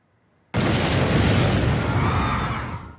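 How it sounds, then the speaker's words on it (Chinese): Explosion in the Japanese suspense thriller Golden Slumber, part of a plot to assassinate the prime minister: a sudden, very loud blast after near silence, swelling into a heavy roaring rumble that fades over roughly two and a half seconds. "爆炸居然真的发生了"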